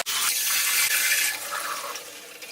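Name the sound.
rinsing soap out of a wig under running water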